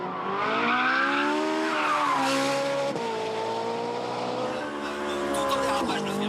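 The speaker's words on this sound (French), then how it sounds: "tout en drift, tout en dérapage, vous l'entendez? La voiture chante, le moteur chante aussi." A Ford Mustang Shelby drifts through a corner on a circuit, its engine singing in a steady high howl over continuous loud tire squeal that rises and shifts in pitch as the slide goes on.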